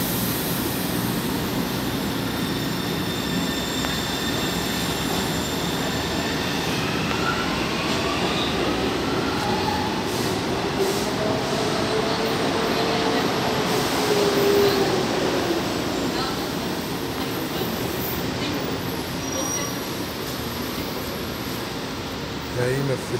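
Metro trains at Armênia station in São Paulo make a loud, steady rumble and rolling hiss with high squeals on the rails, close by and continuous, with platform announcements and voices in the background.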